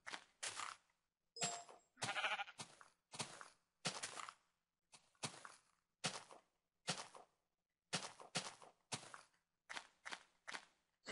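Sheep in the video game Minecraft bleating in a rapid series of short, separate calls, clear and close with silent gaps between them.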